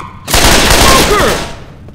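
A single loud, close gunshot from Left 4 Dead 2 bursts out and rings into a short, fading echo.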